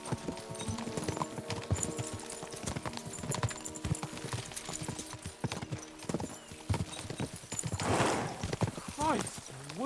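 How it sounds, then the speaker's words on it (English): Rapid hoofbeats of galloping horses clatter continuously in Kingdom Come: Deliverance II, with a horse whinnying near the end and battle ambience behind. "We should spur the horses on."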